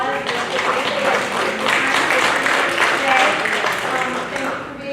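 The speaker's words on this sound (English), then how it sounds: "let's give this, a big round of applause." An audience at a school financial aid night claps in a steady, dense round of applause that fills the whole moment, with some voices mixed in.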